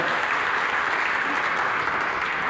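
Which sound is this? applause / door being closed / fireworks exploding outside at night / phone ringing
applause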